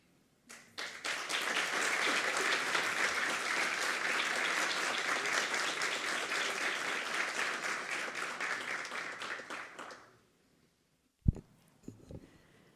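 Sustained applause from an audience at a Court of Accounts of the State of São Paulo ceremony, loud and even for about nine seconds before stopping abruptly, followed by a couple of sharp knocks.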